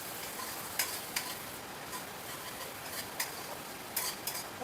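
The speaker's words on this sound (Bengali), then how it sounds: "মশলাটাকে নাড়াচাড়া করবো" Spice masala frying in a pan with ginger, garlic and cumin powder is stirred, giving a soft continuous sizzle broken by several light, scattered clicks of a spoon against the pan, no voices.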